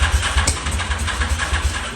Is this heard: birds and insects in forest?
no